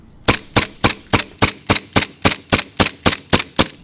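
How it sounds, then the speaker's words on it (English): A We Tech 1911 gas-blowback gel blaster pistol fires fourteen sharp, loud cracks in a steady, even rhythm up close, with nothing else audible around them. "When you fire the last shot of your mag"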